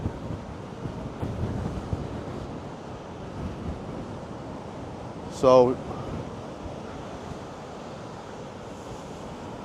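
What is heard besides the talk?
waves crashing in at high tide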